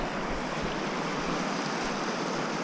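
Cold mountain river water rushing and swirling, a dense, steady broadband roar close by with no breaks or voices.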